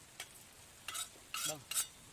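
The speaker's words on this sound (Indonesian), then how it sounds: "Ini mau goreng sambal ya buat jengkolnya" Sambal being fried in a pan to go with jengkol, heard as a few short bursts of sizzling and stirring, near and fairly faint, alone without talk.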